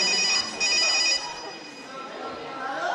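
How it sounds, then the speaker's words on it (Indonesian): A mobile phone rings from inside a trouser pocket during a shadow-theatre stage performance, its repeated ringtone tones steady and moderately loud over a background of ambient noise and low voices. "telepon di saku celana Ancu berdering, menandakan ada panggilan"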